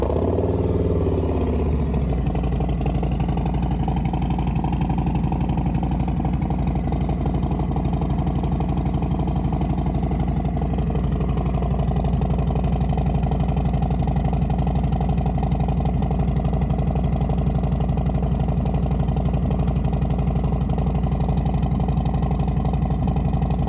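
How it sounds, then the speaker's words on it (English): A motorcycle engine cold-starts with a quick crank and catch, then settles into a steady, close, even idle that runs on for over twenty seconds with no talking. "Let's get a little bit of a cold start. I did run the bike this morning a little bit, but it's been a few hours"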